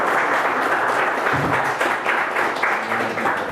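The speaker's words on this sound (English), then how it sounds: "give her a round of applause for the book" Historical society audience applauding a door prize winner, continuous clapping from a room full of people with a few faint voices underneath.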